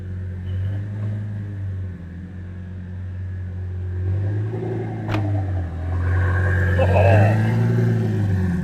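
A 2008 Lamborghini Gallardo with a Heffner twin turbo engine and factory 6-speed idles with a deep, loping rumble that swells louder toward the end, with voices talking nearby.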